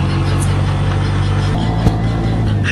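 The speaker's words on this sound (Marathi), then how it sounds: "ट्रॅफिक आहे." Road traffic near Bandra station in Mumbai rumbles steadily, with car engines idling and passing close by in a continuous loud drone.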